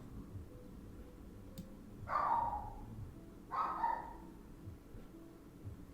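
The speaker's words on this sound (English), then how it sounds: "this dog never barks. As soon as I get on a live, he's always barking." Two separate barks from a dog a few metres off, roughly a second and a half apart, each a short muffled burst over a steady low room hum, with no talking alongside.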